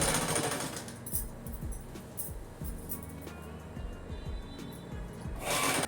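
A sewing machine running a line of stitches along a folded salwar hem, a rapid mechanical whirring with short bursts and pauses, close and moderately loud in a quiet room.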